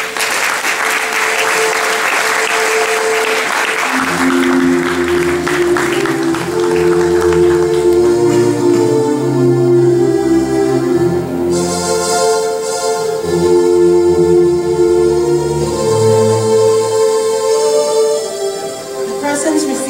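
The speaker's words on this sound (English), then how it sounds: "Let's give them a round of applause." Audience at a 2014 awards ceremony clapping for diploma recipients: a broad, sustained wash of applause from a large crowd, with steady musical tones sounding beneath it for most of its length.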